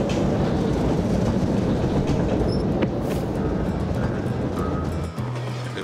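Steady rumble and rattle of a caravan train rolling on rails at speed, a broad continuous roar with faint rhythmic clatter close by, no voices.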